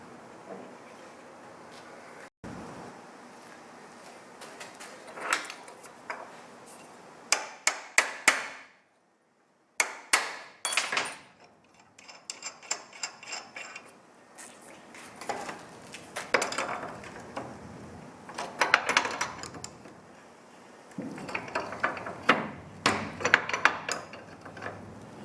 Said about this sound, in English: take a chisel and put a little divot in the thread, so when the nut gets down that far, it'll get kind of tight